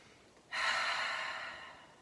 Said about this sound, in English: Let's take one breath in here.